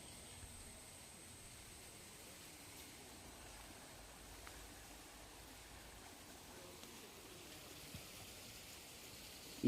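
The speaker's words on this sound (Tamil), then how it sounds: "இப்போ பருவமழை காலம் அப்படின்றதுனால இங்கே மழை ரொம்பவே அதிகமாக பெய்யுது." Heavy monsoon rain pours steadily at the Aryankavu Sastha temple in Kerala, a soft continuous wash of rainfall heard at a distance with no talk.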